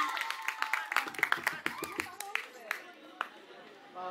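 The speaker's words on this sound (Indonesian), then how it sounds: "Beri tepuk tangan yang meriah." A crowd claps in a steady patter of hand claps, fairly close, fading toward the end with some voices mixed in, at a school National Santri Day ceremony.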